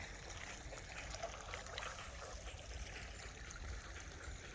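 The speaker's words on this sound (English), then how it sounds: "the stream is pretty damn strong." The strong current of the Little Ouse river near Thetford rushes in a continuous, dense wash of flowing water, close and steady throughout, with no voices.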